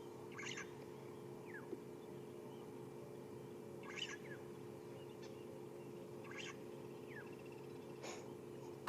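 Blacksmith lapwings give sharp metallic clinks at a distance, a few spaced calls like hammer strikes on an anvil, faint over a low steady background hum.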